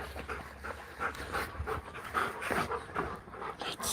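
Dogs panting steadily at close range, a quick rhythmic huffing that carries on without a break and with no speech.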